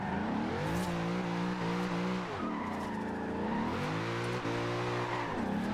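A V8-swapped VW Type 2 De Luxe window van drifts in Forza Horizon 2, its engine revving loudly up and down in sweeping waves while tires squeal continuously beneath, with no talking.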